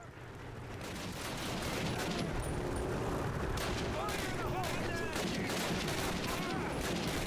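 Dense, continuous Call of Duty gunfire with rapid overlapping shots and explosions, loud and sustained throughout, with a voice briefly audible beneath the barrage.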